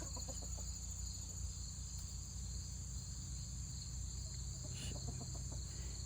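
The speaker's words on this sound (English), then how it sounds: "we'll just quietly watch some chickens right now" Backyard flock of hens clucking softly now and then over a steady chorus of crickets and insects, calm and ambient with no one talking.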